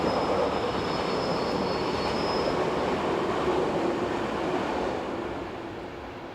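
Swiss train number 11199 rolls past on the Gotthard south ramp, a loud, continuous rumble of wheels on rails with a faint high squeal early on, slowly easing as it goes by.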